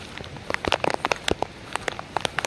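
Heavy monsoon rain over farm fields, with scattered drops tapping and crackling on a nearby surface in an irregular, uneven patter against a faint wet background hiss.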